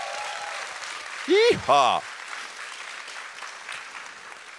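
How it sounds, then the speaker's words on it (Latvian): Audience at the opening of an entrepreneurship event in Valmiera, Latvia, giving applause as a soft, diffuse clatter of clapping, briefly interrupted by a loud, sliding vocal shout near the start before the clapping continues more faintly. "Aplausi!"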